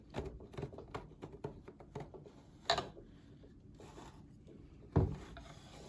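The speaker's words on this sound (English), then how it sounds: "lift up my shed rod, brace the loom, lift straight up on the heddles and strum" Warp threads on a loom are strummed after the heddles are lifted, giving a series of quick dry wooden rubs and plucks near at hand, with two sharper knocks standing out among them.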